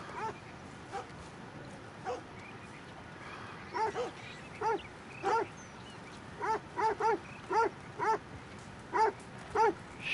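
A dog in the Red Dead Redemption 2 video game barks about a dozen times, at first sparse, then in quick regular pairs and singles, at moderate distance over a quiet outdoor background with no talking.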